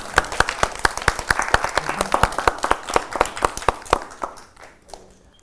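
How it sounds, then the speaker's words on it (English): An audience at a climate justice mini-fest gives a round of applause, dense clapping building and holding for several seconds before thinning out into a few scattered claps. "round of applause."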